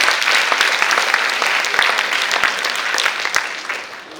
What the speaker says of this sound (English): Let's all give them a huge round of applause